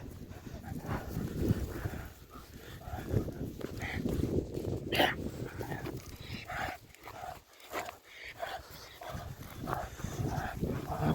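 Hunting Laika dogs bark and whimper while being shut into their enclosure at an outdoor hunting ground, close and insistent, mixed with footsteps, shuffling and people talking throughout.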